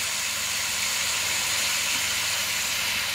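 Beef tips searing in a hot skillet give a steady, close, hissing sizzle that holds even throughout, with no talking.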